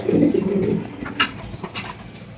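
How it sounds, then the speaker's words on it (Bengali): Pair of white Danish pigeons giving low, throaty coos close by, strongest at the start and then fading under light background rustling. "এখানে কিন্তু আমরা দেখতে পাচ্ছি এক জোড়া ডেনিশ কবুতর হোয়াইট কালারের ডেনিশ"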